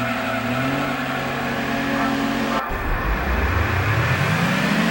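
A Suzuki Cappuccino races in the final K-Car Cup event at the Tahiti circuit in Gran Turismo 2. Its engine drones steadily, then drops abruptly and revs back up as it accelerates, loud and continuous with no talk.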